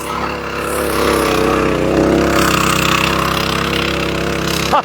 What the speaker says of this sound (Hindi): तो ऐसे छोटे छोटे यंत्र आजकल बना रखे हैं खेती के लिए